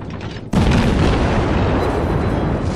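A loud deep boom of naval guns firing in World of Warships bursts in after a quieter stretch, then a sustained roar of rumble and blast noise carries on.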